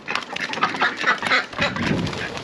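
Several ducks on a South Carolina homestead quack in a busy, overlapping chatter close by, steady throughout.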